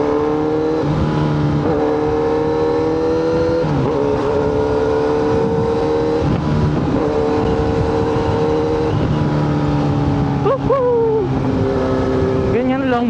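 Kawasaki Z900RS motorcycle engine during a night group ride, a steady loud drone with gear shifts and revs rising and falling, people talking over it.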